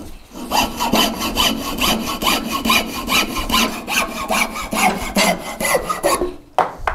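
Hand saw cutting through a homemade fence post stake for an electric pasture fence, steady back-and-forth strokes in a quick even rhythm, close and loud, ending with a brief clatter.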